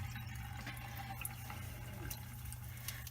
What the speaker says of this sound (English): Pour that in so it covers the bottom